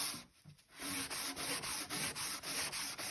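Steady, close scrubbing of a dirty wooden accent table, a brief quiet start giving way to continuous rhythmic rubbing strokes, loud and alone with no voices.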